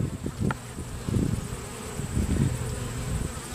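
Honey bees drone around an open hive box of four medium frames being fed pollen patties, a steady close buzz with soft bumps and rustles of handling over it.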